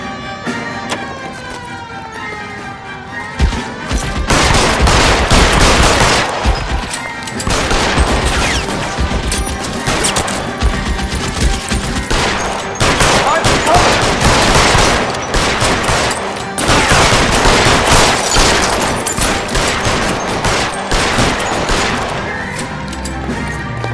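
Sustained gunfire from the L.A. Noire video game, with dense bursts and rapid volleys over a continuous loud backdrop, likely with sirens wailing underneath during a police shootout.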